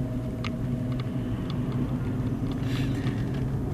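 A Honda HR-V on fresh tyres drives along steadily, giving a low, even rumble of engine and road noise from inside the cabin, with no talk.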